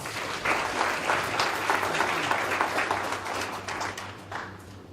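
Steady applause from an audience at a career development project event, dense and sustained for the whole stretch with no break.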